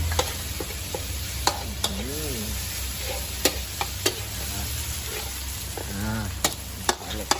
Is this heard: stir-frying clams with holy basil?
yes